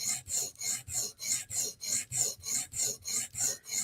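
Tanto M4 PM2 knife blade stroked across a 400-grit sharpening stone in a steady rhythm of about a dozen even, raspy back-and-forth scrapes, close and alone.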